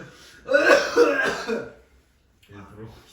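A person clears their throat with a short, close cough-like burst, followed by a brief pause and a little quiet speech.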